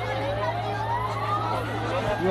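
An ambulance siren wails with a rising tone near a fire, heard over steady background rumble while people talk nearby.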